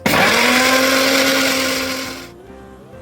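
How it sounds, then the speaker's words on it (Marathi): A kitchen mixer grinder whirs loudly, blending coriander chutney with water in a steady high-pitched motor drone for about two seconds, then cuts out and winds down, followed by a brief clunk. "थोडं पाणी घालून आता आपण हे मिक्सरमध्ये वाटून घेऊया"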